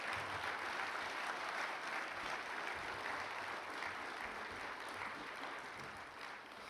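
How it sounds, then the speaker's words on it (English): Steady audience applause at an awards and Hall of Fame ceremony, a dense wash of clapping that holds evenly throughout and fades slightly toward the end, with no talking over it. "please help me just give Daniel a round of applause"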